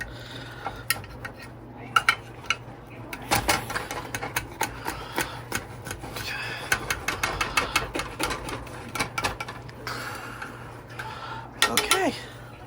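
A knife cuts through a baked baguette bread pudding with a crisp, golden-brown top, giving rapid crunchy taps and clicks against a dish at close range, while faint background talk runs underneath.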